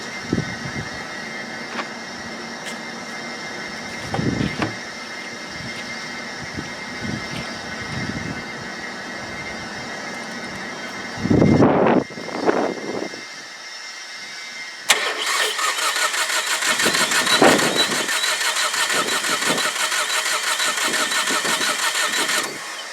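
A Saab 9-3 TiD diesel engine drones and labors through repeated cranking attempts with a few thumps, then catches and settles into a louder, steady running rumble.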